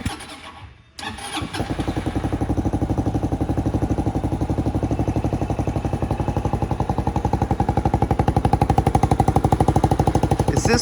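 Venom X22GT 250cc water-cooled automatic motorcycle engine cranking and catching after a brief click, then settling into a steady, loud, close idle with an even rapid pulsing rhythm.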